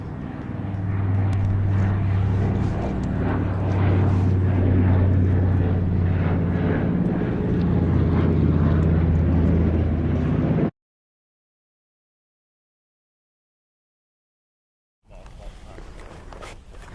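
Two Grumman Wildcat propeller fighters flying together at an airshow, a steady droning engine hum with a low tonal growth, loud for about ten seconds before cutting out, then resuming faintly.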